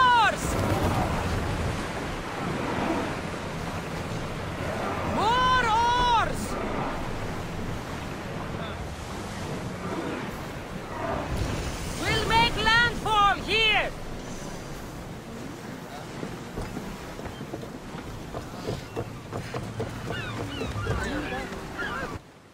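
Sailing ship from Assassin's Creed Odyssey cutting through open sea, with steady surf and wind rushing beneath it, while shouted voices rise over the water in bursts.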